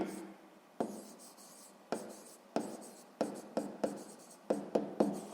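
A pen writes numbers on paper in a sixth-grade math exercise, producing a series of soft, scratchy strokes that start and stop irregularly, close and quiet.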